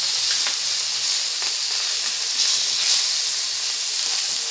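Masala-coated fish frying in a pan, a steady close hiss and sizzle of hot oil with faint crackles, continuous and fairly loud throughout, no voices.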